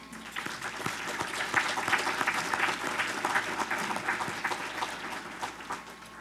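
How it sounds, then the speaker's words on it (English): An audience in a chamber hall gives a sustained round of applause, many hands clapping at medium loudness with steady density that swells slightly midway and then tapers, with no speech over it. "I want to give you guys all a big round of applause for what you do"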